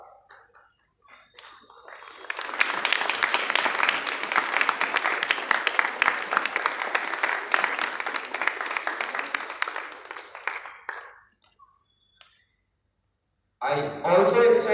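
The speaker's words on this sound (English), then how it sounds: "A huge round of applause." An audience at a school Republic Day celebration breaks into a round of clapping that swells quickly, holds steady for about eight seconds and fades out, followed by silence and then a speaker's voice.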